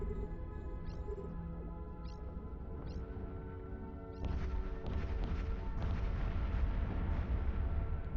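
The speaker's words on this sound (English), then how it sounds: "Fireworks all around us" Fireworks go off in space in the Eve Echoes video game. Several short rising whistles come first, followed by a louder stretch of rumbling bursts and crackling booms over a steady electronic hum.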